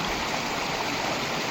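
A stream called Bhuk Khola flows steadily at close range, a continuous broadband rush of water with no breaks or voices.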